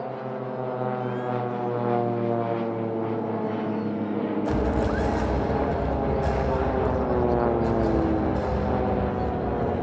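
Swiss Air Force Pilatus PC-7 propeller trainers drone and howl overhead during a simulated two-versus-two air combat display at an airshow, engine tones sustained and shifting in pitch, with a louder, deeper roar arriving halfway through.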